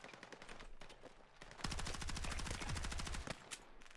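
Automatic gunfire in the video game REDSEC, fast machine-gun style bursts that turn into a sustained rattling stream of shots over steady game ambience.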